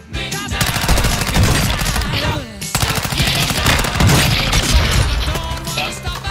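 Heavy automatic gunfire from a multiplayer shooter game rattles almost continuously in loud, overlapping bursts, with only a short break, and a voice is barely present underneath.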